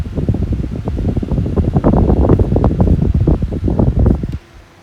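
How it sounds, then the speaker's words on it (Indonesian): A white Kaze Flex PC cooling fan spins fast and blows a loud, steady rush of air close to the microphone. The whooshing texture flutters slightly, then drops away abruptly near the end, leaving a faint quiet hum. "untuk kipas KZ Flex ini seperti Anda bisa dengar memang agak berisik karena bisa didengar sekali suara airflow dari kipasnya"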